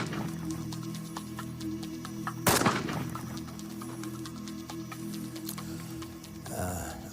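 A single sharp gunshot cracks out partway through, loud and sudden against a quieter outdoor background, with a faint shorter burst of noise near the end.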